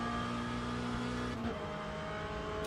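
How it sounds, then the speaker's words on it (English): An LM GT3 race car in the racing game Le Mans Ultimate, its engine droning steadily and loud with a clear shift in pitch partway through, like a gear change under sustained throttle. "This car, this engine sound,"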